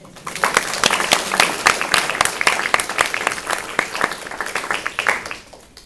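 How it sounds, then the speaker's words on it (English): An audience at a university scholarship awards ceremony claps in a loud, dense burst of applause that fades out at the end. "they deserve a round of applause anyway"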